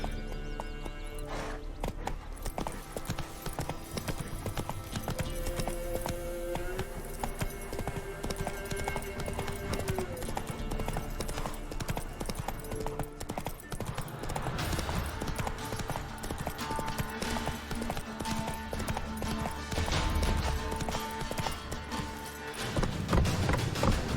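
The horse Roach galloping in The Witcher 3: Wild Hunt, a steady rapid clip-clop of hooves running on and on under game music and ambience, with a brief voice call near the start.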